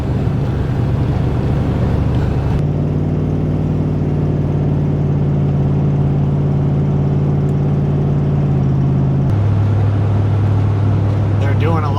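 A car drives along a snowy road, its engine giving a steady close drone with a low hum that shifts pitch partway through as the vehicle changes pace.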